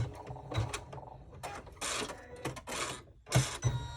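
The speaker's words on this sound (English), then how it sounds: "as soon as I hear the thread cutter" Embroidery machine running with mechanical whirs, ratchety clicks and bursts of high rattling as the thread cutter engages partway through, close and fairly busy, with no talking.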